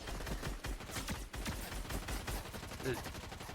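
Rapid gunfire crackles in Fortnite, with a dense string of overlapping shots and impacts rattling continuously and loudly for a few seconds.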